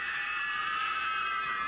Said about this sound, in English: they're each betting each other who can scream the loudest